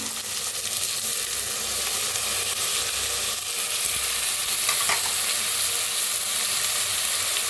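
Washed, soaked moong, matki and masoor sizzle and crackle as they roast in a pan, a loud continuous frying hiss with stirring scrapes throughout and no talking.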